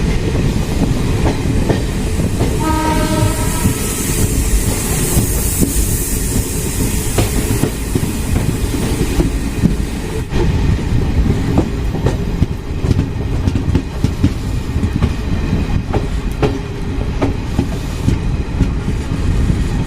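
A passenger train on the Rishikesh–Bandikui line rolls along steadily, loud and close, with continuous rumble, rhythmic wheel clatter and occasional brief squeals and hiss.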